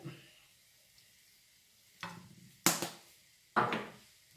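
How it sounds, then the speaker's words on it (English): A spoon scrapes and stirs food seasoned with smoked paprika in a pan, heard as three or four short, fairly close strokes separated by quiet gaps, with faint sizzling underneath. "And let's just give that a stir. So get everything mixed well."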